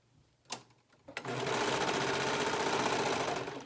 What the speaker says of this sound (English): Now we're going to sew these two ends together of our band.